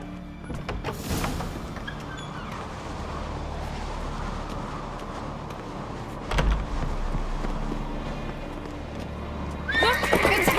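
Horse in The Witcher video game, whinnying and snorting over a steady background of clip-clopping hooves and ambient game noise, with a sharp knock midway and another loud burst near the end.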